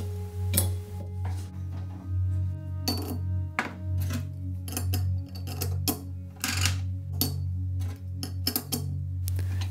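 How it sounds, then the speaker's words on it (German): Clutch friction plates and steel plates being laid in alternately during a clutch overhaul on an MZ ETZ 250 motorcycle: a series of light metallic clinks and ticks, close and irregular, over a steady low hum. "Dann im Wechsel Reibscheibe und Zwischenscheibe einlegen"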